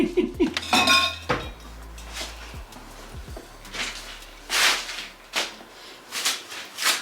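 A mixture stirred in a container during a kitchen table makeover, with irregular scraping and clinking knocks of the stirrer against the sides, close and moderately loud.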